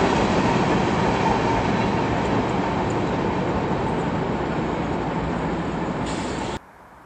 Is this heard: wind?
no